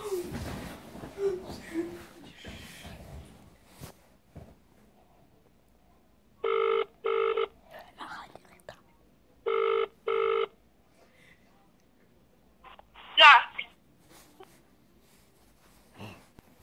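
A telephone rings during a prank call, two short double-ring bursts sounding clearly between quieter stretches with faint breathing and small noises, and no talk over the rings.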